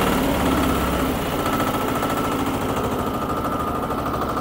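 An AGRORAY AR-TH16DE mini tractor engine idles at low revs, a steady loud chugging rumble with fast, even pulsing and no voices.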